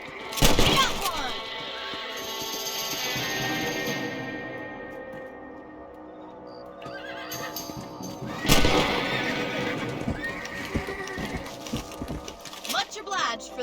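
A horse whinnies in Red Dead Redemption, a loud burst near the start and another later, set against a broad wash of noise with no talking.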